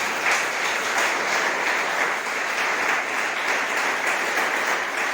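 Congregation applause during a church sermon, a steady, full wash of many hands clapping at an even level throughout, with no voices over it.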